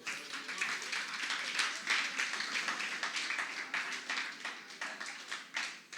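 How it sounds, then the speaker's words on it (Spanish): A church congregation applauds, with dense, steady clapping running throughout at moderate level and a few sharper claps standing out near the end. "Denle un aplauso al Señor"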